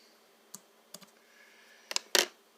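Scissors snipping a thread tab while tying bass skirts, a few sharp quiet clicks spaced apart, then a double snip and a louder final cut, close by in a quiet room.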